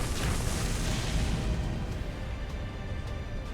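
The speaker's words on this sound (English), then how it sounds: "It's an explosion of soil." Massive explosion of soil in the Tsukihime visual novel as the terrain crumbles, a loud, dense rumbling roar filling the low end and slowly easing off over a few seconds.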